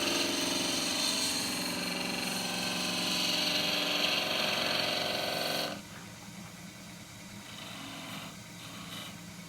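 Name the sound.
skew chisel cutting an endgrain bowl on a wood lathe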